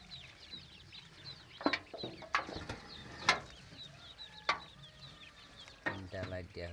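Chickens cluck in a coop lit by lamps, a quiet, steady chorus of soft clucks and a few sharper calls, with a person talking faintly nearby.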